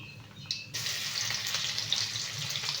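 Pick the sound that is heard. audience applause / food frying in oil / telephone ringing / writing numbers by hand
food frying in oil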